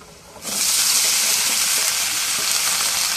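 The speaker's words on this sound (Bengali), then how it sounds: "এখন মরিচ পেঁয়াজ ভাজা হয়ে গেছে, এখন ছিমাগুলো দিয়ে দিই।" Flat beans tipped into a pan of frying chili and onion set off a sudden loud sizzle that starts half a second in, then holds as a steady, close hiss with no talking.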